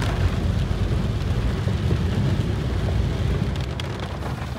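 Heavy rain pours down in Poombarai, Kodaikanal, in the hills, making a dense, unbroken roar of drops hitting the ground and other surfaces. The sound stays constant throughout, with no voices.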